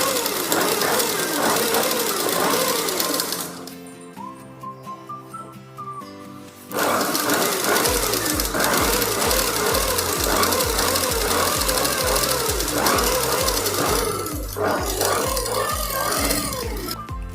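Sewing machine stitching folded fabric with a 3-in-1 piping foot, a loud steady mechanical whir in long runs with a short pause midway, against a tonal musical background.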